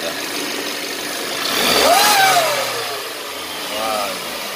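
A car engine revs up with a whining noise coming from the wheel hub area on a car that has never had its engine oil changed. The pitch rises to a peak mid-clip and falls, then swells more softly near the end.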